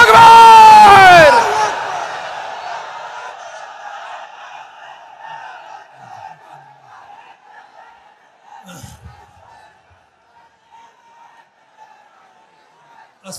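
A large crowd at a gathering shouts a loud unison takbir chant that fades quickly into a murmuring crowd hum, with scattered faint calls and noises continuing at a distance.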